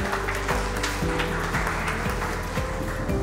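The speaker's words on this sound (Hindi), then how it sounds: "एक बार जोरदार तालियां प्लीज" Audience applause at an award ceremony, a dense wash of clapping that holds steady and fairly loud over a low musical background throughout.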